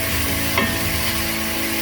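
Beef sears and sticks in a pan that is far too hot for a stew, giving a steady close sizzle with a brief scrape partway through.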